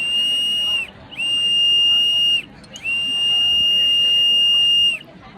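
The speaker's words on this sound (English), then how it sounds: "Mrs. Brewster, you'll hear the whistle." Three long, steady ship's whistle blasts, loud and shrill with a buzzy edge, the last held longest, separated by short pauses.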